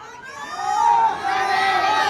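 A large protest crowd at Mendiola, Manila, shouts and cheers together against the president, loud and sustained, with many voices blending into a continuous roar.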